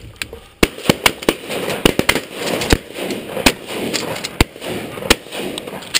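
Shotgun blasts during a bird hunt outdoors, a rapid scattered volley of about a dozen sharp, loud reports over several seconds, some close together, with brief gaps between.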